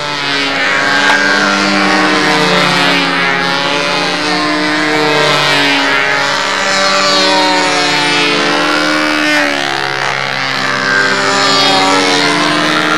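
An 80-size Saito engine powering a model aerobatic airplane at a world championship flying contest, a loud, steady, buzzing drone that rises and falls in pitch as the plane maneuvers. It runs for the whole stretch with no talk.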